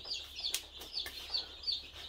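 Chicks clucking and peeping in a brooding pen under heat lamps, a steady run of high, repeated calls with a few sharper louder cheeps, fairly close and with no talk over them.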